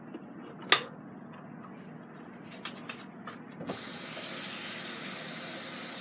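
Cold tap water pours into a HADIN EEON electric kettle, model GK2003CT, beginning as a steady rushing fill after a sharp clunk, with small knocks and clinks along the way, fairly quiet and close with no talking.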